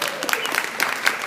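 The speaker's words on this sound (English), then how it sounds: "So if you would join me in a round of applause," Applause from an audience at a Christian business support event, a short burst of steady clapping with some speech-like murmur mixed in.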